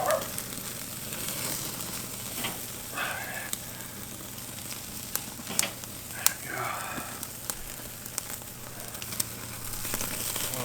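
Herb-crusted rack of lamb sizzles and crackles steadily over charcoal on a Weber kettle grill, a close, continuous hiss with scattered sharp pops from the coals and fat.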